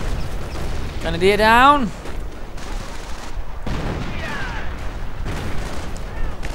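Mortar, artillery and small-arms fire crackle and thud in a WWII strategy game battle between German grenadiers and riflemen, heard faintly and steadily beneath a caster's continuous commentary.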